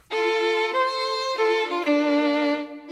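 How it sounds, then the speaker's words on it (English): A sampled Joshua Bell violin is harmonized by a solo violin library in a lush Disney medley string arrangement. Bowed, sustained notes move through three or four chord changes, full and close with no other sounds. "So this time, the Joshua Bell violin is being harmonized by the CSSS solo violin as well."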